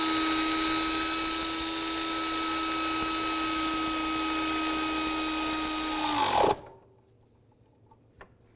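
A power tool tightening a belt tensioner bolt on a 2005-15 Nissan Xterra makes a steady high whine for about six seconds, then cuts off abruptly into near silence with one faint click afterward.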